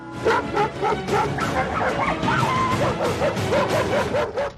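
Several dogs in Karachi bark and yip rapidly and loudly close by, mixed with whimpering yelps in an overlapping, excited chorus.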